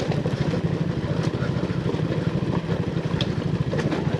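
A 125cc scrambler motorcycle rides off-road over loose gravel and large stones, its engine a steady, close rumble with a busy, rough texture throughout.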